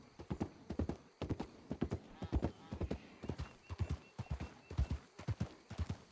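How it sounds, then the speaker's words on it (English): Hooves of a horse-drawn wagon in the Western roleplay game WildRP, a brisk, steady clip-clop of overlapping hoofbeats that sounds like several horses, close and clear throughout. "Wagons always sound like they're multiple horses."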